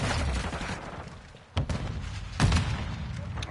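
Gunfire in Call of Duty Modern Warfare 2 on the Shipment map comes as rapid bursts of shots, with sharp louder cracks standing out over dense, continuous game noise.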